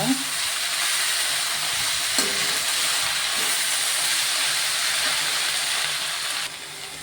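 Fresh greens from a terrace garden sautéing in a hot pan, a loud continuous sizzle and hiss with a few stirring clinks, close and steady with no talk.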